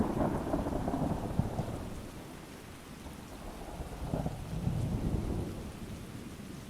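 Steady rain falls with low rolling thunder that swells at the start and again near the end, a continuous stormy wash with no voices.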